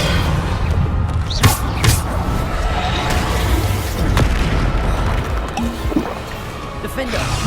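Spell explosions from Bombarda go off in Hogwarts Legacy combat, with sharp booming blasts amid constant battle noise. A voice keeps shouting over the clamor.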